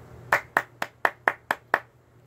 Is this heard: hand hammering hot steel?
no